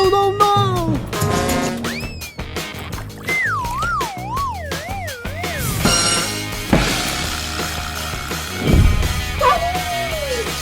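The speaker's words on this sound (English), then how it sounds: "Wow! Dog!" A dog barks and yips repeatedly, with whimpering, over a busy backdrop of cartoonish sound effects and music in a children's comedy scene.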